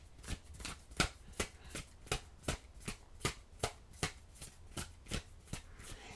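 A deck of oracle cards being shuffled by hand, close and crisp, with about a dozen evenly spaced riffling bursts in a steady rhythm and no talking.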